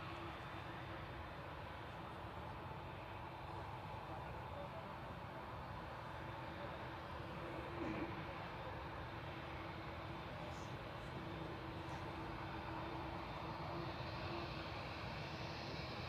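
A Ryanair jet arriving from Budapest, registration EI-EBW, lands at Manchester Airport: a steady, distant engine roar that holds even and unbroken throughout, with no voices.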